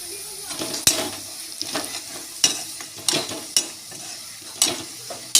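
A spatula scrapes and clacks against a pan as red chili, turmeric and coriander powder are stirred into frying vegetables, sharp utensil knocks at an irregular pace over a continuous close sizzle.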